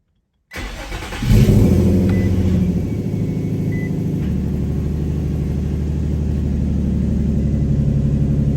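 An Infiniti G35 or Nissan 350Z engine cranks and catches close by, with a brief rev, then settles into a steady, loud, rumbling idle.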